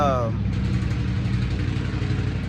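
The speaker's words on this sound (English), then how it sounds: "Y'all hear that car, bro?" A car engine rumbles steadily outside as a vehicle passes, a low continuous drone that stays loud throughout the moment.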